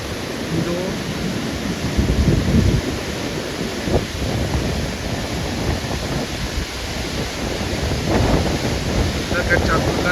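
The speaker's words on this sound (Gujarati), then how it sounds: "દરોઈ ડેમમાંથી પાણી છોડવામાં આવ્યું છે. એના કારણે બધા ગેટ ખુલ્લા છોડી દેવામાં આવે છે." Flood water released through the open gates of Dharoi dam on the Sabarmati river rushes in a steady, broad roar that swells and eases slightly, with no clear talk.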